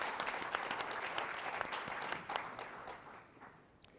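Conference audience applause greets a panel on Venezuela and Cuba, a full round of clapping that swells steadily and then tapers off in the last second, with no voices over it.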